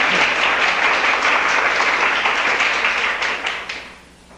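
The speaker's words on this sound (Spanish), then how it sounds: "como ustedes están aplaudiendo" A church congregation applauds during a sermon, a dense steady wash of many hands clapping together that holds loudly before tapering off at the end.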